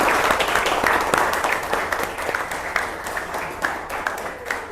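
A school class of students applauds together, steady dense clapping filling the room for several seconds with scattered louder claps, no voices over it.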